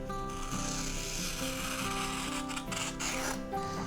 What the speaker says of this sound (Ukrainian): Якщо візьмемо професійний ніж, попробуємо, як він ріже.